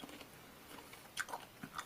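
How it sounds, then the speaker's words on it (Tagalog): A crisp, crunchy nectarine is bitten and chewed up close, with a few sharp crunching bites clustered near the middle and end over quiet chewing and no talk. "itong nectarine na peach din. Malutong siya, guys."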